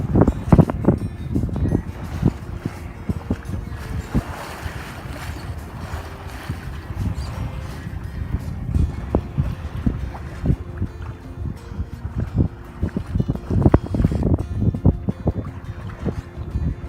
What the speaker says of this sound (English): We're under full sail